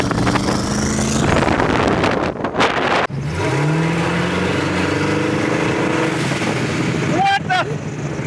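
A twin-turbo LS V8 in a Mitsubishi Mini Cab truck idles roughly, then gets a quick rev that rises in pitch, with wind buffeting and muffled voices in the background.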